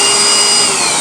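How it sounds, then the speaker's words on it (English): A high-powered cordless handheld vacuum runs close and loud, a steady whine with no pauses throughout. "High-powered, good quality, handheld vacuum."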